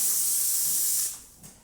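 A heat-exchanger espresso machine's steam wand gives a steady, loud hiss for about a second, then cuts off abruptly, leaving faint background noise.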